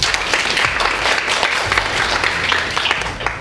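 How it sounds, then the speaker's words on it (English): Sustained applause from the audience at an open cheer team practice, steady, dense clapping filling the room for several seconds without a break. "Give yourselves a hand."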